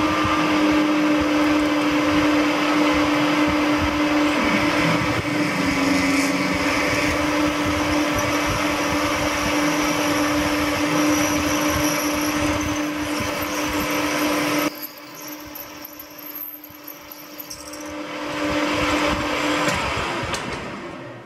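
Metal lathe drilling an 8.5mm hole 14mm deep from the tailstock for an M10 tap, a loud continuous motor whine and grinding hum that drops away briefly near the end before rising again.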